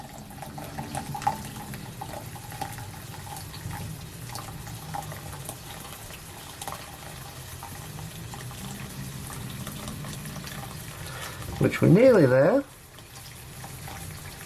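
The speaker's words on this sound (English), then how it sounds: "I have boiled the kettle already, and we'll just fill this up. So pouring that in" Boiled kettle water poured into a paella pan, a steady low gurgling pour under a person talking, ending in a brief louder splash and burble.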